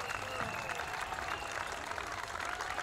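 Crowds line the course of the Cardiff Half Marathon, cheering and clapping for the passing runners in a continuous distant wash of applause, with a commentator's voice faintly underneath.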